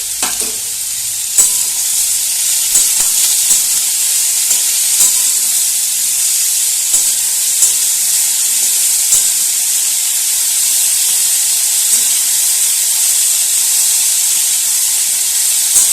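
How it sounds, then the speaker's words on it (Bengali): Vegetables, salted and seasoned, fry hard in a pan over a high gas flame, giving a steady loud sizzle with scattered spatters and occasional stirring scrapes throughout. "একটু দাগ ধরিয়ে ভেজে নেব গ্যাসে ফ্লেমটা হাই করে দিয়ে একটু দাগ ধরার অপেক্ষা করছি"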